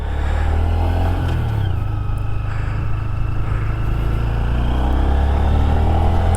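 A 2023 Honda Grom small motorcycle engine running close by, a loud steady idle with a slight rise in pitch partway through, holding a constant rumble throughout with no one talking.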